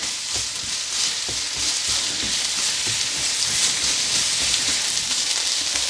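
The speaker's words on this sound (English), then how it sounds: "to throw in the onions and we're going to quick fry them for approximately 1 to 2 minutes" Onions quick frying in a pan on high heat, a steady loud sizzle with crackling spatters and occasional stirring sounds, continuous without talk.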